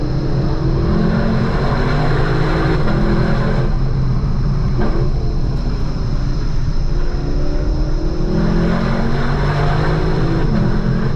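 A 2024 Lexus LC 500 V8 engine drones loud and steady from inside the cabin with a window open, its note reflecting off a nearby rock wall with slight rises and falls in pitch.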